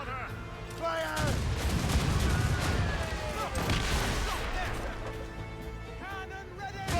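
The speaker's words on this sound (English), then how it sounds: "Cannon ready! Fire!" Ship cannons and mortars fire in a naval battle in Assassin's Creed Rogue, a dense run of loud booming blasts and crashing impacts that rolls on for several seconds, with shouted voices mixed in among the barrage.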